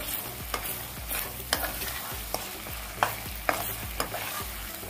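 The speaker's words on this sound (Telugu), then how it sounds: "కొద్దిగా అల్లం వెల్లుల్లిపాయ పేస్ట్ ఆ పచ్చివాసన పోయేంత వరకు ఫ్రై చేసుకొని" Ginger garlic paste fries in a pan for a chicken curry, a continuous sizzle punctuated by regular stirring strokes and utensil taps about every half second to a second.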